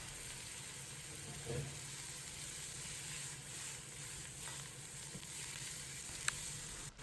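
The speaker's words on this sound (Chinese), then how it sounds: "先放入白菜帮，翻炒几下。" Cabbage stalks stir-fry in a wok with soy sauce, cooking wine and aromatics, giving a steady close sizzle with occasional spatula taps and scrapes against the metal, no voices.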